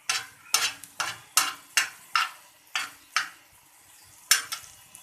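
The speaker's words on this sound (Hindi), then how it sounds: "इसको अच्छे से भून लेंगे।" Pav bhaji mixture being fried and stirred in a pan: a series of about nine sharp scraping, sizzling strokes at a steady rhythm, close and fairly clear, with no talking.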